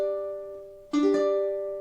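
A few plucked ukulele notes ring softly, then a quick strum of a chord sounds close and clear before decaying.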